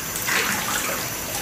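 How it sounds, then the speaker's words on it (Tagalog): A child splashes in bathwater, a continuous close wash of running and sloshing water that lasts only a moment, with no voices. "naliligo siya"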